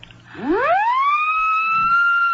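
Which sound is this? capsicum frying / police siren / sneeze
police siren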